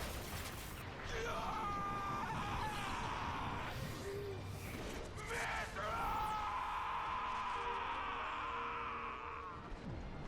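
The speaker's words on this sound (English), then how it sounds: "that is how you scream in the Xenoblade universe" A character in Xenoblade Chronicles 2: Torna – The Golden Country lets out long, strained screams and yells over a dense background of battle noise and music, the cries rising and falling in several drawn-out bursts.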